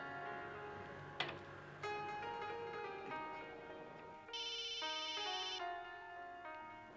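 A phone's ringtone plays a faint electronic melody of stepped tones over low background noise, with no talking.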